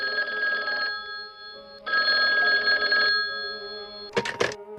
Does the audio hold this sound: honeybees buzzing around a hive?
no